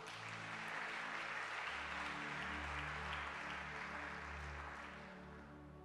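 Church congregation applauding during a worship service, a dense steady patter of many hands clapping together with a sustained low hum beneath, gradually fading toward the end.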